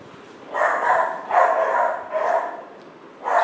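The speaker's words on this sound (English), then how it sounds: "Sorry about the dogs." Dogs bark indoors in a series of four loud, close barks spaced about a second apart, with quiet gaps between them.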